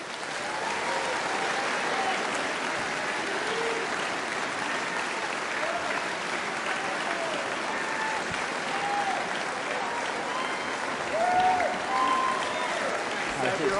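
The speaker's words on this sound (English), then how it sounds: "please give a very large round of applause for the Right Honourable Rishi Sunak MP." A large audience at a Conservative Party leadership hustings gives a long, steady round of applause for Rishi Sunak, somewhat distant and diffuse, with faint voices and a swell of cheering near the end.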